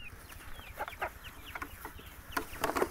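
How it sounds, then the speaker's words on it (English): Farm chickens cluck and chatter in a steady, busy stream of short calls, some louder and nearer toward the end, over a faint background with no talking. "Oh, and of course the chickens."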